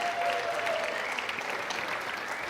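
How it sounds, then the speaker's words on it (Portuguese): A church congregation claps steadily in welcome for a seminarian, a warm, even round of applause at moderate volume with a faint sustained tone early on and no speech. "Um salve de palmas para o Breno."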